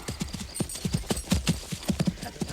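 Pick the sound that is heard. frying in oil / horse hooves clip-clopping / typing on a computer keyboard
horse hooves clip-clopping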